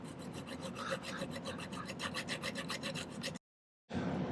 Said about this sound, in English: I'm going to use the edge of my round nose file, or half round file to get a start there.